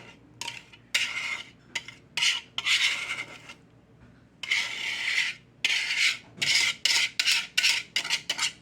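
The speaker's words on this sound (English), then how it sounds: "I like to scrape it all out." A utensil scrapes pumpkin pie filling from a bowl into a pie crust in loud, close, repeated rasping strokes, with short pauses between scrapes.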